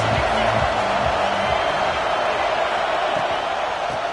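Steady, loud roar of a football stadium crowd, continuous and dense throughout, with faint voices underneath.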